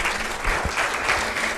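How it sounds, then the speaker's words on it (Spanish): Brief, dense round of audience applause at a medical talk on anemias, a steady wash of many hands clapping at even volume. "un aplauso a la doctora Norma y a la doctora Mara"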